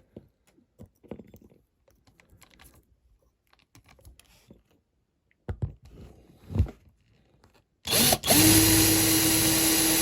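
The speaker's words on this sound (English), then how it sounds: "This makes it easy to drill out as well." A power drill whines loudly and continuously, working into the grill of a Jaguar XJ12C banger racing car. It starts after scattered clicks and rustling from tools and parts being handled.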